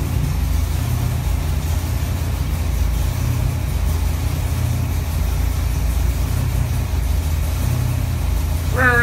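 A Ford 331 V8 with 9.9:1 compression runs on a dyno, a loud, close, steady low rumble of a heavy engine droning without a break.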